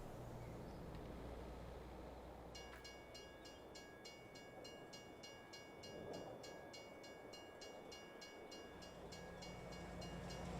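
A train in Farming Simulator 22 rolls past steadily, its rhythmic clatter carrying over a low rumble for several seconds, with a faint horn-like tone near the start.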